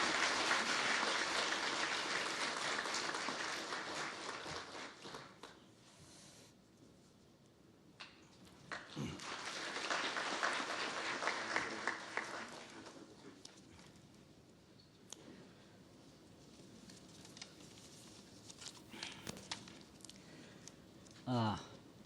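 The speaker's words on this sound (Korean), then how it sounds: "강사님을 박수로 환영해 주시기 바랍니다." An audience at a humanities lecture series in the National Assembly claps to welcome an emeritus professor. The applause is loudest at the start, then fades into quieter room noise and scattered sounds.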